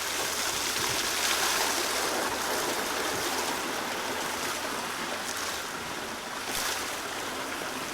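Water flows steadily past a water wheel in an aquatic-plant filtration channel near Lake Kasumigaura in Tsukuba, Japan, a continuous rushing wash with no voices.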